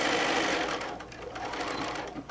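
Sewing machine stitching quilt pieces, a steady close whirring run of rapid needle strokes lasting a couple of seconds.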